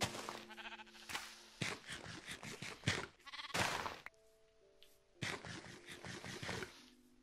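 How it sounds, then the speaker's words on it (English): Sheep in the Minecraft video game bleat in a run of short, overlapping calls, loud and close, with a few scrapes and clicks from gameplay between them. "I got sheep now"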